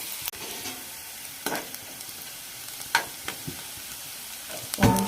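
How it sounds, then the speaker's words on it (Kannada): Chopped onions fry in hot oil for a capsicum gravy, giving a faint low sizzle broken by a few sharp stirring scrapes and clicks against the pan, with no talking. "ಇವಾಗ ಅದೇ ಎಣ್ಣೆಗೆ ನಾವು ಕಟ್ ಮಾಡ್ಕೊಂಡಿರುವಂತಹ ಈರುಳ್ಳಿ ಹಾಕೊಳ್ಳೋಣ. ಸ್ವಲ್ಪ ಈರುಳ್ಳಿ ಫ್ರೈ ಆಗಲಿ."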